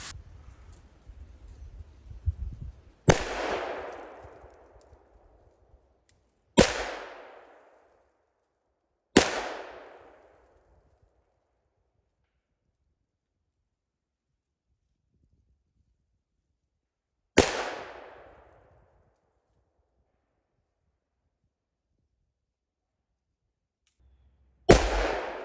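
A vintage 1970 Dan Wesson Model 11 revolver fired slowly and deliberately, five loud sharp shots each followed by a short decaying echo, separated by several seconds of near silence.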